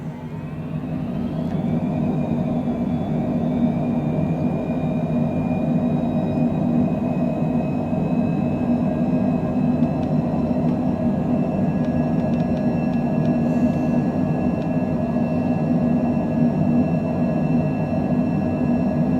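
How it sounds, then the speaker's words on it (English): Cessna Longitude business jet engines spooling up to takeoff power in Microsoft Flight Simulator 2020, a steady loud roar with a rising whine early on that then holds a constant high-pitched tone throughout. "let's go ahead and set takeoff power"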